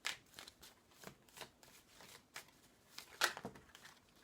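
Tarot cards shuffled close up in a quiet room, a run of soft riffling flicks and papery slaps coming in uneven bursts, with one louder crisp snap near the end; no talking.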